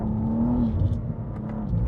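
A 2025 BMW M2 engine revs hard and steadily, a loud, deep mechanical drone holding a high pitch before easing slightly, with no voices.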